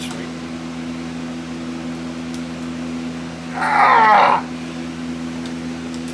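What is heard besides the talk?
furnace humming in a workshop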